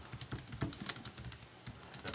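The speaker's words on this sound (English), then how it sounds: "if we go into notes, we can type a message." Fast, light keystrokes tap out a message on an iPad Keyboard Dock keyboard, a close, irregular run of clicks with no talking.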